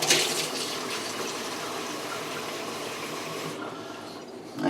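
Tap water pours steadily from a kitchen sink faucet into a 1-cup measuring cup, a continuous close rushing splash that cuts off near the end.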